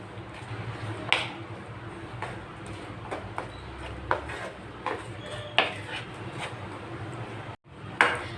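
Jaggery and coconut barfi mixture stirred in a pan, a utensil scraping steadily with occasional sharp clinks against the metal, close and fairly quiet.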